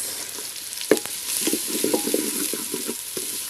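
Carrots being stirred into vegetables frying in a pot during village cooking, a low sizzle under soft stirring and clatter, with one sharp knock near the start, moderately quiet and with no talking.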